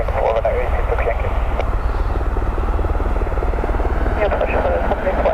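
Rescue helicopter returning to Dublin Airport, its rotor and engine making a steady, loud drone throughout, with a faint pulsing chop and a voice talking over it.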